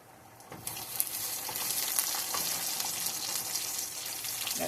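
Sausage frying in butter in a home kitchen pan, a steady bright sizzle that swells in after a brief quiet start and holds loud and close throughout, with no talking.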